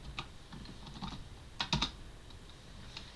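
Keystrokes of a password being typed on a computer keyboard while logging into a Raspberry Pi over SSH, a short run of close, quiet clicks with a denser burst in the middle.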